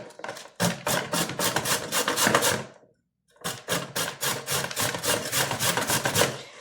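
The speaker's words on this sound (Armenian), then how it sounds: "գազարներ պտի քերել, քերած ավելի լավ է գազարը, այս խոշոր տեղով եմ քերում" Carrots scraped across the coarse side of a hand grater for a salad, a near, rhythmic rasping of quick strokes, paused briefly midway before the steady grating resumes.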